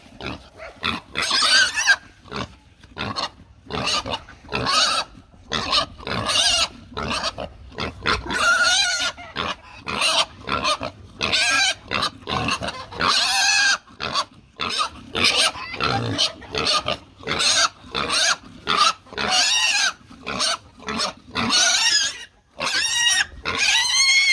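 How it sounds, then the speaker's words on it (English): Pigs squeal and grunt in loud, frantic bursts while being wrestled on a farm, one after another with short gaps, close by and continuing throughout. "Pig wrestling."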